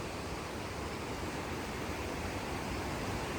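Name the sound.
Namblan waterfall flowing, Sheeri, Baramulla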